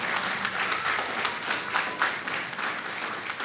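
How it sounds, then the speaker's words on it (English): A crowd applauds at a children's book launch event, with brief, steady clapping from many hands at moderate volume that rises and falls slightly over a few seconds. "A round of applause to the lady."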